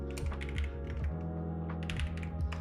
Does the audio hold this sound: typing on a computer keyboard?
yes